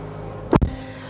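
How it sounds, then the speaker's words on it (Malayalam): A car door slams shut with one solid, close thump against a quiet background. "ഡോറൊന്ന് ക്ലോസ് ചെയ്യാം"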